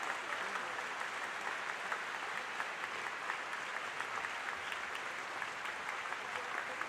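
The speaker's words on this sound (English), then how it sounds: "She deserves another round of applause." An audience in a hall applauds a performer, producing a continuous, full wash of clapping that holds at an even level throughout without any talk.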